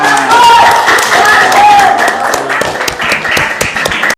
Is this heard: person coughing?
no